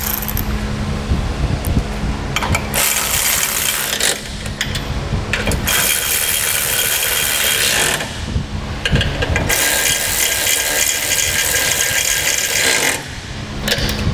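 Bolts on a Buyers Products A-frame trailer jack with support foot being snugged down with a hand ratchet: a steady, close mechanical whirring and rattling with brief pauses, no talk.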